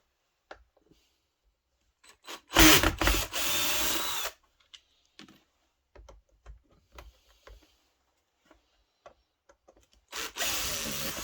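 Cordless screwdriver sharing batteries with a Kraissmann 3502 AKS-BL 20UL battery saw, two loud whirring motor bursts of a couple of seconds each, separated by scattered small clicks and handling knocks.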